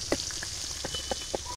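Fish frying in hot salted oil in a pan for a village-style Bengali meal, giving a steady soft sizzle with scattered small pops and crackles throughout, close by and with no talk.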